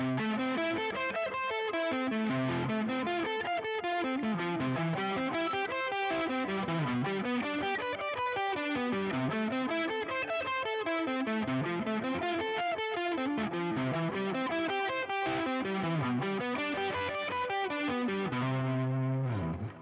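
Electric guitar with distortion plays a repeating one-position arpeggio sequence, shifting up a half step and repeating. The picked notes rise and fall in a steady, even rhythm, loud and close, with no talking.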